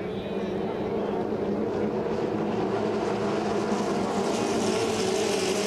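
Racing hydroplane boat engines throttling up at a St-Félicien race in 2012, a steady, dense, loud engine roar over a broad band that holds for several seconds without fading.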